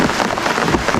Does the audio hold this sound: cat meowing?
no